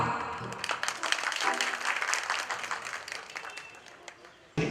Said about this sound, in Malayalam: എല്ലാവരും നല്ലൊരു കയ്യടി അദ്ദേഹത്തിന് കൊടുക്കാം.